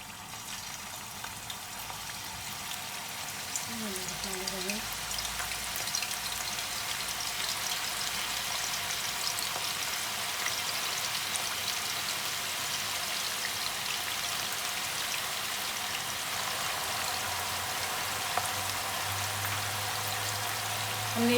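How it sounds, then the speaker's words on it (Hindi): Dum kebabs sizzling in hot oil, a steady dense crackle and hiss running loud and unbroken for the whole stretch, with a brief low rumble early on and no talking. "अब मैं इसे फ्राई करना स्टार्ट करती हूँ।"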